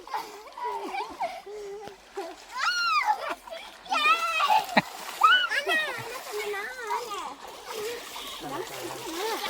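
People jump into the water at a jungle waterfall, with repeated splashes and sloshing while children and adults chatter and shout excitedly throughout.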